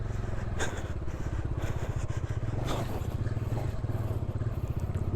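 A Bajaj Dominar motorcycle rumbles along an off-road trail, its engine giving a low, throbbing pulse that stays loud and close throughout, with faint clatter from the rough ground.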